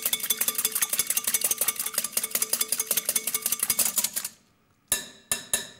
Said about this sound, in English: in another bowl, beat an egg